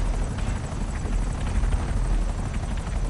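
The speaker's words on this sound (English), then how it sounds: "If the NPCs are not going to use these helicopters, then I will." Helicopter rotor and engine noise from GTA Online: a constant dense whir with a rapid rotor chop, steady and fairly loud with no voice over it.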